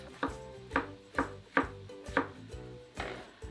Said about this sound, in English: I'm going to get on with chopping the mushrooms.